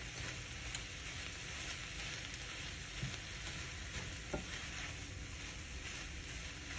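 Ground beef quesadilla filling being stirred in a hot pan, a steady close sizzle with occasional spoon scrapes and clicks, no talking.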